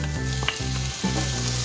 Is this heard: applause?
no